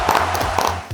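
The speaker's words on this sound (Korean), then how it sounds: "박수" A small group claps in celebration of two team leads promoted to directors, giving a brief, close, rhythmic patter of handclaps with low thumps beneath.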